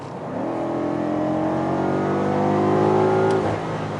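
A 2019 BMW M5, the F90 generation, revs up loudly with its engine note sweeping upward in a steady climb for about three seconds, then easing off near the end, close and clear with no talking.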